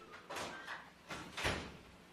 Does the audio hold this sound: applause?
no